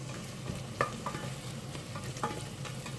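Garlic and lemongrass sauté in a pan for chicken tinola, a steady close sizzle with light stirring scrapes and a few sharper clicks of the utensil against the pan.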